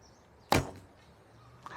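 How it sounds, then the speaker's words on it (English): A heavy 36-inch bamboo arrow is loosed from an Alibow Tang Dunhuang bow at partial draw, giving one sharp, close string snap followed by a quick fading whoosh, with only quiet room noise before and after. "So now the heavy arrows, bamboo, 36 inches, so we don't draw fully."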